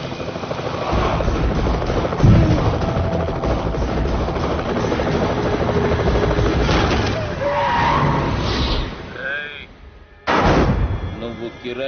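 A helicopter's loud, continuous rotor roar fills an action movie scene, mixed with sharp bangs like gunfire. The roar dips briefly near the end, then surges back.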